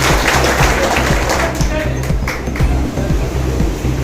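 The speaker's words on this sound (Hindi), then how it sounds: "अब हमारे माननीय सांसद जी के लिए भी जोरदार ताली।" Sustained clapping from a large crowd honouring a member of parliament at a public welcome event, dense and even, loud and close, holding steady for several seconds.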